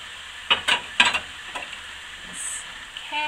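Parsnips, carrots, celery and onions are stirred in a full pan, giving a few brief clattering scrapes early on over a faint, soft sizzle with no talk.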